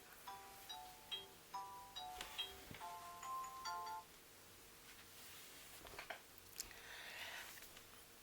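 A phone rings with an incoming call, a repeating electronic ringtone of short melodic chime bursts over about four seconds, fairly faint, with soft rustling handling noise afterward.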